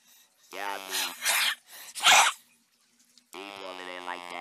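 A person coughs in short, harsh bursts while wearing a sturdy protective item, with voiced throat sounds and vocal noises around the coughs, fairly close and loud.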